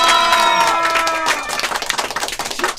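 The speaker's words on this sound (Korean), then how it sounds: "준우승 박수!" Crowd at a university company gathering applauding a cadet's runner-up finish in a competition, with clapping and cheering mixing with a lingering musical tone at first, then scattered claps and shouts toward the end.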